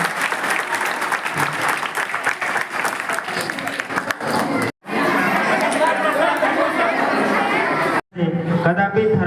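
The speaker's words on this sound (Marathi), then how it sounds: "हार्दिक हार्दिक शुभेच्छा आणि टाळ्या वाजवा" A gathering at a Buddhist vihara in Priyadarshini Indiranagar breaks into loud, sustained clapping from a crowd, with murmured chatter mixed in and two brief silent breaks.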